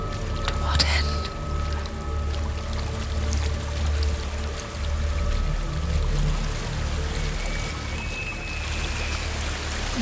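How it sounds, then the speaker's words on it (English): A waterfall in Hellblade: Senua's Sacrifice gives off a steady, dense rush of falling water that holds at an even level for the whole stretch, with faint higher tones drifting above it. "There's a waterfall."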